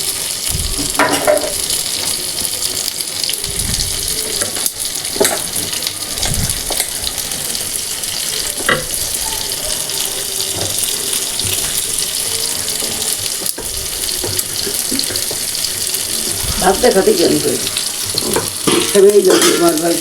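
Loud, continuous sizzling and spitting of beef seekh kebabs frying in a pan, with occasional scraping and clinks of a utensil turning pieces.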